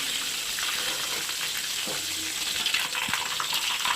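Chicken fries in a pan, giving a steady, bright sizzle that stays even throughout at moderate loudness, with a few faint clinks and no talking.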